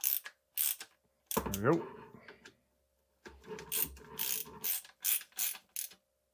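Bolts on a Rockshox Pike RCT3 fork are snugged down with a small hand tool, giving a few short metallic ratchet-like clicks in separate bursts close by, with brief talk partway through.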